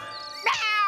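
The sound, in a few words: cartoon cat meowing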